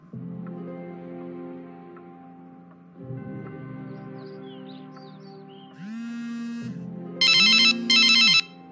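A telephone rings with electronic ringtone bursts, the warbling tones rising and repeating loudly through the clip with short gaps between them.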